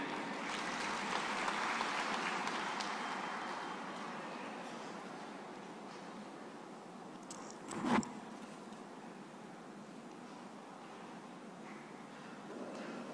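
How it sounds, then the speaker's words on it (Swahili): Applause from a large congress hall audience at a Tanzanian party general meeting, a broad steady wash of many hands that swells early, then fades to a softer, continuous patter with one brief sharp knock near the middle. "Tuwashukuru ndugu zetu wa Ethiopia kwa makofi mengi."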